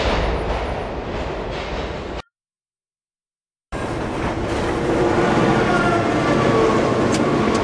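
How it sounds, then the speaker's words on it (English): A train rumbles and rattles in the video game Spider-Man 2, a loud, close ride with clattering wheels, cut off by a short silent gap before the noise resumes and swells slightly. "We're on the train now."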